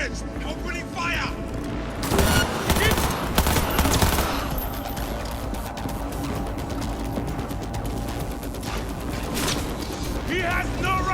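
Rapid automatic gunfire and bursts of shots fill a firefight in the Cyberpunk 2077 video game on PS5, loud and sustained with heavier blasts, while combat voices shout over it.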